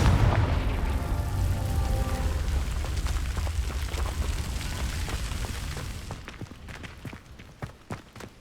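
A Confringo fire spell bursts in Hogwarts Legacy, a loud booming explosion with a rumbling roar that fades over several seconds, followed by a few light footstep-like thuds.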